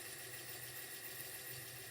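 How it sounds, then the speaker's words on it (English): A 2009 Honda Pilot engine runs at a steady idle, a faint, even hum with a low rumble and no voices. "Engine noise, let's see."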